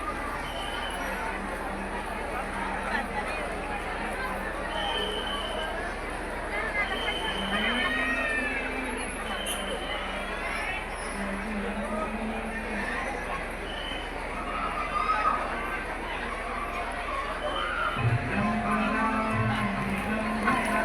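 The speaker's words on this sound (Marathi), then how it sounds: "किती गर्दी जमली आहे" A dense crowd of devotees mills around Ganagapur temple at aarti time, a steady murmur of voices and footsteps filling the space, with clearer close talk breaking through near the end.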